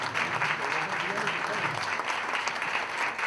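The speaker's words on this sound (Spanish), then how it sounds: "Un fuerte aplauso del Salón de Nicaragua." Audience in a hall in Nicaragua applauding loudly and steadily at an award ceremony, dense continuous clapping throughout with a faint voice underneath.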